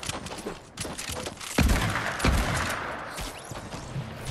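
Sniper rifle shots in Fortnite during scrims and box fights, two sharp booming cracks a moment apart amid busy game noise, with no talking.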